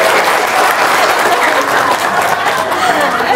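An audience claps loudly and steadily throughout, a dense, continuous wall of applause with no break, likely at a lively Indonesian seminar.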